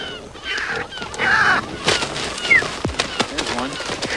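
Angry nesting seabirds being netted give harsh honking, squawking calls, several overlapping cries at close range amid rustling and handling noise, with people talking throughout.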